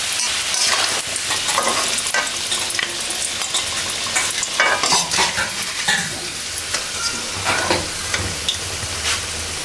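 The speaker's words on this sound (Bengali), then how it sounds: "আলুগুলো লাল লাল করে ভেজে নিয়েছি" Potatoes, cut and washed, fry in hot oil for a Puran Dhaka beef tehari, giving a steady close sizzle with repeated stirring and utensil scrapes and no talking.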